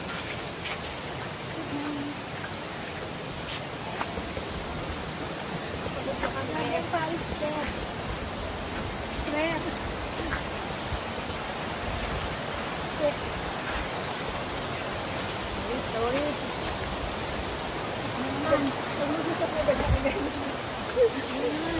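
River current at the Ambon-Ambon waterfalls eco park in Pangil, Laguna: a steady, broad rushing of water that fills the scene continuously, with occasional faint knocks and no clear talk.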